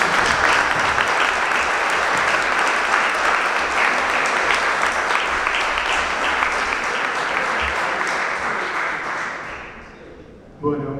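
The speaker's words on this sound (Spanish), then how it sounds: "Así que lo recibimos también con un cálido aplauso." A warm ovation fills the hall at a political tribute event, sustained clapping from a large audience lasting about ten seconds before fading out.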